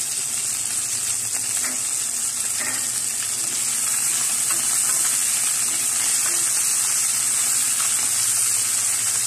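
Chicken adobo with whole peppercorns fries in a pan with a steady, even sizzle and faint crackles, close and constant throughout.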